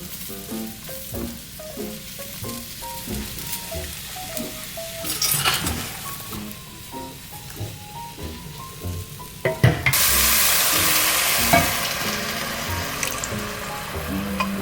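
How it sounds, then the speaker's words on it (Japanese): Sliced mushrooms sautéing in a pan at home, with steady sizzling and stirring close by; a running tap and water splashing from a sink come in clearly over the second half. "スライスしたマッシュルームいきます。 炒めましょう。"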